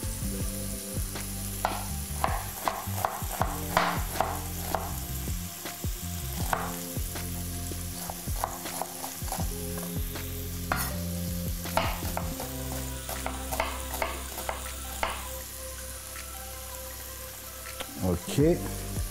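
Onions and crushed garlic sizzle steadily in a pan for a quick veal blanquette, with repeated scraping and clinking as they are stirred, close and continuous throughout.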